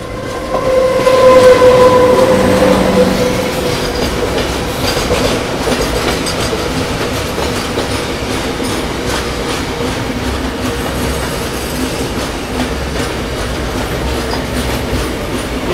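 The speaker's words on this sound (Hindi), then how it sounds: "ये देखो पीछे से एक फ्रेट ट्रेन आ रही है पैरेलल" The Patalkot Express passenger train runs along the rails with a loud rumble and clatter while a freight train passes on the parallel track. The roar swells early, then settles into a steady, continuous rattle.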